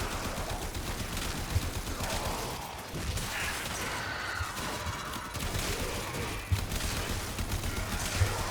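The AX-52 gun fires in the game Warframe as a rapid, dense stream of shots over a steady low hum, with a few sharper impact cracks and brief pauses between bursts.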